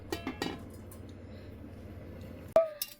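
A lid is set over a karahi of hot water used for steaming mishti doi in a home kitchen: a few soft clinks early, then one loud, close metallic clang with a ringing tone that fades, followed by a brief clatter, with no talking.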